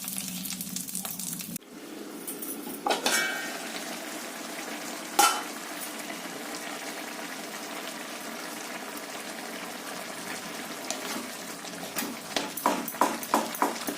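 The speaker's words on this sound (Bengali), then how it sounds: "বড়িগুলো ভেজে তুলে নেব" Lentil dumplings (bori) frying in hot oil, a steady soft sizzle running throughout with a few sharper clatters and some light tapping near the end.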